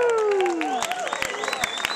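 A film festival screening audience claps and cheers in a short, dense burst of applause with scattered whoops, loud and close.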